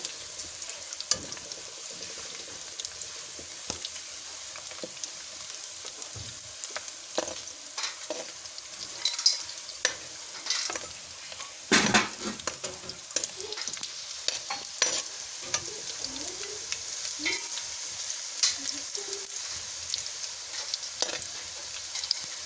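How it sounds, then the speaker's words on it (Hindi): Garlic frying and sizzling in a pan with lightly browned onions while being stirred for a kandoli curry, a steady close crackle broken by scraping stir strokes, with no talking. "अब इसमें हम लहसुन ऐड करेंगे।"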